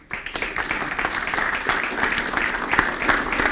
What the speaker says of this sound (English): I don't need the applause, thank you for it